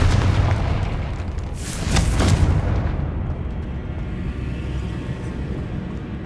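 A spell explosion in the Hogwarts Legacy video game goes off as a loud, deep boom that swells near the middle and then decays into a long low rumble, with no talking.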